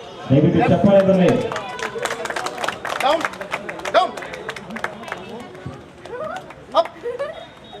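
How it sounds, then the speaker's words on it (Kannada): Crowd applause at a pet animal show in Ramdurg, a few seconds of brisk, dense clapping after a loud voice, then tapering into sparse claps beneath voices and general hubbub. "ದಯವಿಟ್ಟು ಚಪ್ಪಾಳೆ ಬರಲಿ."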